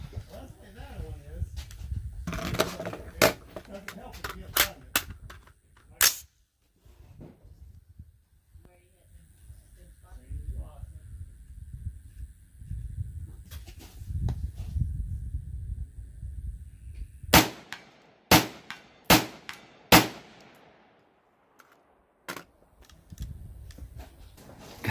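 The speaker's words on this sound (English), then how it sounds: "we'll go ahead and smack that gong around down there at 100 yards real quick. It's actually quite easy to rapid fire on it" An Anderson AM-15 AR-15 rifle in 5.56 fired rapidly at a steel gong 100 yards away, a quick run of about a dozen loud sharp cracks in two bursts, with talking between them.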